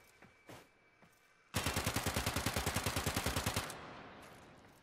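After a couple of faint clicks, the Azima gun fires in Warframe as a rapid, evenly paced burst of about twenty loud, sharp shots over roughly two seconds, then cuts off into a quieter tail.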